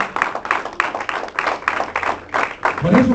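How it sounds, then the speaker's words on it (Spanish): A church congregation claps together during a Spanish-language sermon, producing rhythmic, fairly loud applause with some crowd noise mixed in. "Denle un aplauso al Señor."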